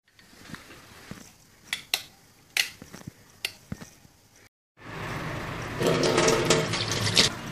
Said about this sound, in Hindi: तो धो लिया है मैंने ये बाउल